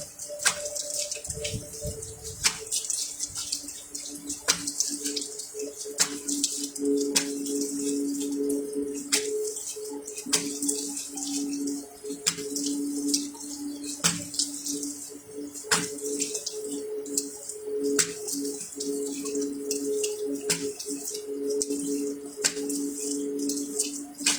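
Water running and splashing while a face mask is washed off, with a steady tap flow, irregular drips and splashes, and a faint tonal hum underneath, no talk.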